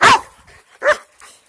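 A dog gives two short, sharp barks close by, the first loud and the second a little softer, followed by quieter trailing sounds during an obedience training session.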